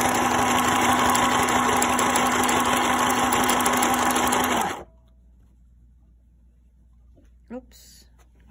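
New Home Janome mini sewing machine stitching cotton fabric, a close, loud, steady mechanical whir that stops abruptly after about five seconds, followed by near silence and brief speech.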